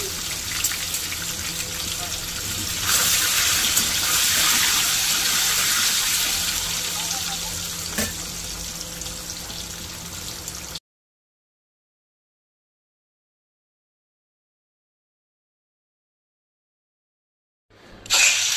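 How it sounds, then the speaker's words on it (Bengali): Eggs frying in hot oil for a Bengali home-cooked eggplant and egg dish give a steady broadband sizzle for about eleven seconds, then silence, with a brief burst of sizzling returning at the end. "তেল গরম হয়ে গেছে, এখন আমি ডিমগুলো ছেড়ে দিচ্ছি।"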